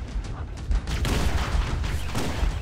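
Rapid-fire plasma pistol in Halo: The Master Chief Collection on Legendary: a fast, steady stream of sharp shots with low rumbling booms mixed in, continuous and fairly loud.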